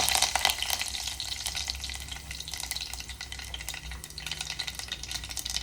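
Curry leaves dropped into hot oil already holding mustard seeds and cumin for a dhaba-style potato curry, a loud crackling sizzle that bursts at first then settles into steady frying, close up, with no speech.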